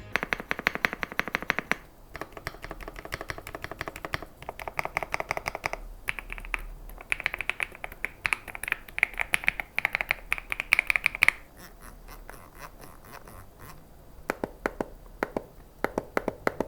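Rapid, crisp clicking of Ajazz mechanical keyboard keys with linear switches typed in quick bursts, close up, with short pauses between runs of keystrokes.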